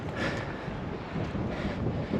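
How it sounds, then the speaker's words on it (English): Steady stiff coastal breeze buffeting the microphone on a seaside path, a continuous low rumbling roar with gusty swells and no voices. "Quite a stiff breeze"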